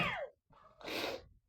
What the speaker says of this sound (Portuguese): Espirrar logo agora, né?